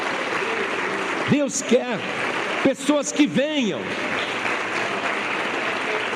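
Church congregation applauding in steady broadband clapping throughout, while a man preaches in Portuguese over the top with short exclaimed phrases.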